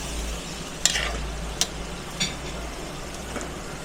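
String beans and pork for adobong sitaw sizzle in a pan while a utensil stirs them, a few distinct scraping strokes standing out over the steady frying hiss.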